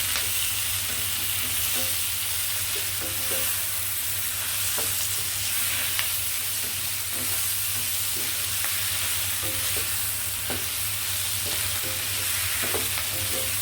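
One and a half medium tomatoes fry in a pan for paneer butter masala, giving a loud, steady sizzle close up with occasional soft stirring scrapes and taps throughout, and no voices.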